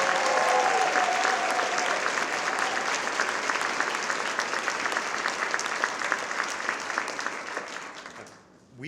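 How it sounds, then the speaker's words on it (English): An audience at a charity luncheon for Mary's Place claps warmly for Frank, a dense, sustained round of applause that holds steady for several seconds, then fades out abruptly at the end. "Let's give Frank another round of applause for being such a great champion."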